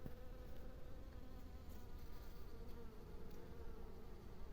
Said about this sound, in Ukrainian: Вони, вон, бачите, літають.